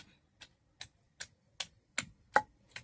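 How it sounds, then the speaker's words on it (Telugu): Onions being pounded in a stone mortar for gongura chutney, eight sharp, evenly spaced thuds about every 0.4 seconds, close and clear with no talking. "ఇప్పుడు ఇట్లా దంచుతానండి"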